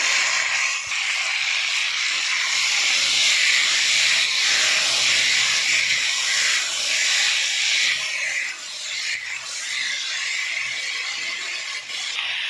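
Boiled taro and potatoes tipped into a hot oiled pan with salt, giving a loud, steady hissing sizzle that eases slightly toward the end.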